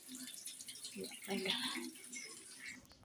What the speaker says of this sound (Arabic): هبلهم بس مية كده وابوشهم وهغسلهم ان شاء الله